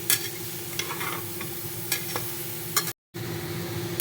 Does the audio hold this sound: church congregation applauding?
no